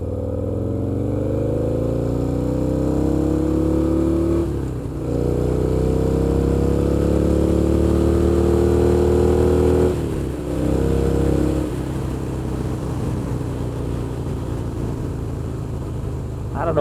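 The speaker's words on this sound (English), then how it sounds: "we're going to listen to the exhaust. It gets a little louder when you romp on it" A 2003 Harley-Davidson XR1200 Sportster engine roars as it accelerates, the exhaust note climbing in pitch through each gear with brief dips at two shifts, loud and steady throughout.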